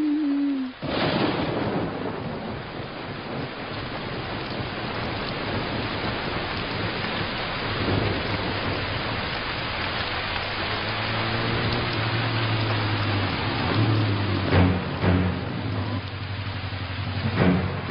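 Heavy rain pours in a steady, dense hiss that stays loud the whole way through, with low rumbles and traffic-like sounds building toward the end; no clear thunderclap stands out.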